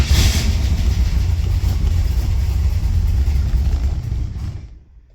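A car engine with a freshly rebuilt Holley 750 Double Pumper carburetor runs loud and close with a dense, rough rumble, holding steady before cutting off abruptly near the end.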